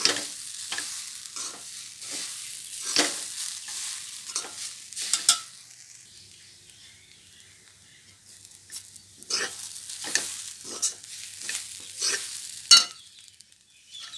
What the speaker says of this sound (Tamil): நல்லா தேங்காய் துருவல் சூடு ஏறணும்